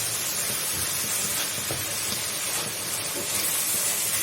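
Meat sizzles in a pan for Egyptian béchamel pasta, a steady bright hiss with faint clinks and scrapes as it is stirred.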